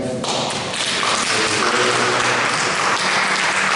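A church congregation claps and acclaims the Lord, with dense continuous applause and scattered thumps filling the space, steady and loud throughout.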